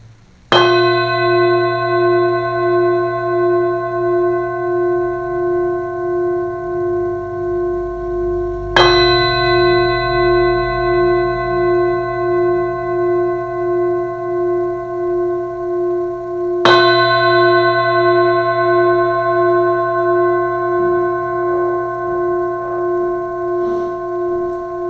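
A bell rung to open a Buddhist service at a meditation center: three loud, clear strikes spaced several seconds apart, each ringing out with a long, slowly fading hum and no talking.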